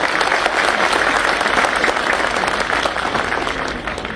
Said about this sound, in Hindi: तो एक बार ताली चेयरमैन और चीफ मिनिस्टर दोनों के लिए भाई